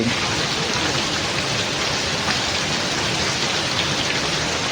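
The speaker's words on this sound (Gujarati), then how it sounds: "આ જો સવારમાં વરસાદ ચાલુ થઈ ગયો છે" Steady early-morning rain falls in Mota Khutavada village, a loud, unbroken wash of drops close by with no voices heard.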